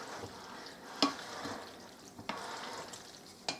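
A spoon stirs tomato basil pasta in a pan, giving a few soft scraping sweeps and three sharper clacks against the pan over a quiet kitchen background.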